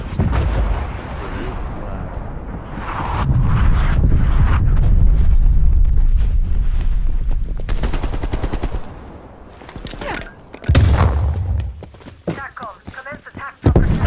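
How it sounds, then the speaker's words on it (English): Heavy artillery barrage in Call of Duty: Black Ops Cold War, loud booming explosions and rapid gunfire bursts rolling over several seconds, with a lull and then more close blasts and crackling debris. "Artillery inbound."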